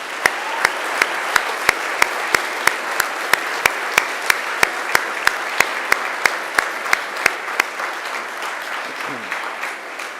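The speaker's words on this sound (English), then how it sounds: "now it's time to give them a mighty round of applause" Families and friends at a Macquarie University graduation ceremony give the graduates a steady round of applause, a dense wash of many hands clapping with no talk, sustained evenly throughout.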